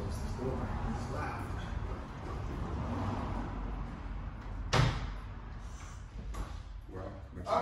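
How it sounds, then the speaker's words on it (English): A loud door is closed, with a single sharp thud partway through over steady room noise, followed by a few softer knocks. "Oh, I should close this door. It's loud."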